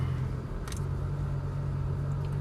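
An Audi R8's engine gives a low, steady rumble up close as the car rolls forward through a tent toward a staging area, with a brief faint click partway through.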